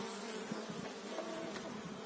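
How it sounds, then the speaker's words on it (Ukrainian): A bee buzzing close by near beehives in spring, a steady droning hum that wavers slightly as it moves, with no voices. "От, знову бджола за мною припрятіла."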